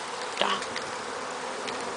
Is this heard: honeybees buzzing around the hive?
yes